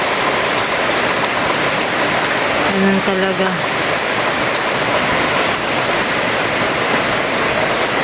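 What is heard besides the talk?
rain falling at a house construction site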